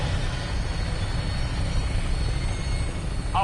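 Vertibird aircraft in Fallout 4 lifting off, a steady, loud rotor and engine roar with dense low rumble that holds unbroken throughout, with no talk over it.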